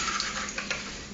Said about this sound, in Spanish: Tenemos que pasar la tortilla sobre el aceite caliente para que se suavice un poco